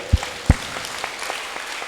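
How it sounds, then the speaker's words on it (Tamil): A church congregation claps during a sermon, a few loose scattered claps with two sharper strong hits at first, then softer uneven ones trailing off, with no talking. "கைதட்டுங்க."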